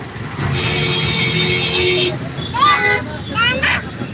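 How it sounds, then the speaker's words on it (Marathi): Car horns honk several times amid city traffic in Pune, India, short toots in quick succession with a steady engine hum and distant chatter underneath. "पुण्यामध्ये ट्रॉफिक किती आहे आमच्या ड्रायव्हरला सारखा हॉर्न वाजवायला लागतो"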